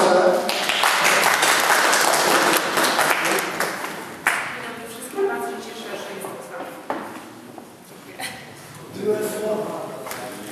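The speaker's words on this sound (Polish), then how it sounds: "brawa" Audience applause at a panel discussion during a hippie culture days event, dense and steady for the first few seconds, then thinning into scattered claps under voices.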